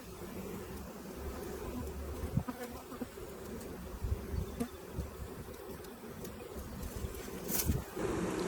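A large spring honeybee swarm hums around stacked hive boxes, a steady, dense buzz of many bees with occasional soft knocks, fairly faint and continuous throughout.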